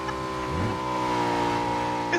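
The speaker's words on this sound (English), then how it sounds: "I hear a car coming too." Car engine approaching in an online shooter game, a steady tonal drone with a rising pitch sweep, heard over continuous game background sound.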